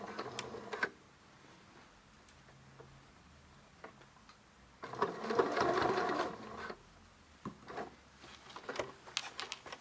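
Sewing machine fitted with an adjustable zipper foot stitching a few stitches forward, then back, in short rapid whirring bursts separated by quiet pauses and light clicks.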